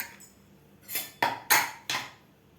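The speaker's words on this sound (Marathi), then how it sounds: "कुकरसुद्धा आपलं थंड झालेलं आहे तर आपण झाकण काढून बघूया" A cooled pressure cooker holding cooked green mung beans has its metal lid worked open: a few sharp, close metallic clanks and knocks in quick succession, with no talk.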